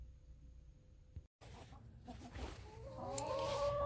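Backyard laying hens clucking over their feed, a busy cluster of soft calls growing louder toward the end, close by with no talk.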